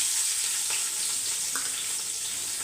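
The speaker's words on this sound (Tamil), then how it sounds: "பட்டை லவங்கம் பிரியாணிக்கு தேவையான பைசஸ்லாம் சேர்த்துடலாம் அது கூட எப்பயும் போல் வெங்காயம்" Cinnamon, cloves, biryani spices and onion fry in hot oil, giving a steady broadband sizzle throughout with a few faint stirring clicks and no voices.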